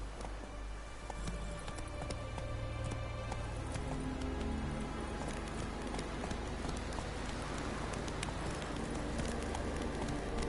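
Roach, a horse in The Witcher 3 video game, gallops with rapid, steady clip-clop hoofbeats under a busy game soundscape with faint bird calls, continuous for several seconds.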